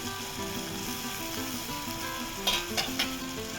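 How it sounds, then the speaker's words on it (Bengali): Chopped tomato and spices for masala crab fry in a pan with a constant, even sizzle, then a few quick metal scrapes near the end, and no voices. "মশলাটাকে ভালো করে ভাজবো"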